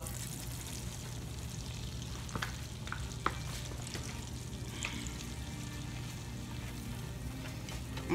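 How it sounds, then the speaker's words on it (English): A utensil scrapes browned bacon pieces and bits around a hot pan, with steady sizzling and frying under a few short scraping strokes, close and continuous without talk. "So I'm gonna scrape all these bacon pieces and bits"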